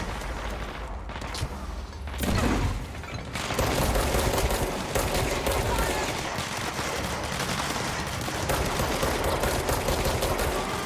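Dense bursts of gunfire from the video game Control, loud and continuous, with heavy rapid shots and booming impacts filling the scene.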